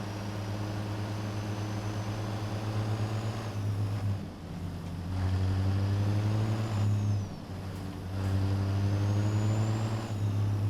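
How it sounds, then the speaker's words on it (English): A heavy truck in American Truck Simulator, a Coca-Cola truck on a Texas highway, rolls past as a loud, steady diesel drone that swells twice, with brief hissing dips between the passes. "Big old Coca-Cola truck going by."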